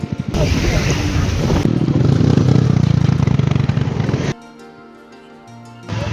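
A Bajaj Pulsar 125 motorcycle pulls in first gear on a ride from Siliguri toward Gangtok, its engine droning loudly and evenly up close, then dropping to a quieter idle hum before rising again.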